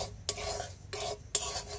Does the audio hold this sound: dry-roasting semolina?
yes